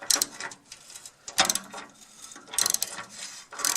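A ratchet clicks in quick bursts while loosening a bolt that is tight from heat and partly stripped on a wood stove bypass door, up close with short pauses between pulls.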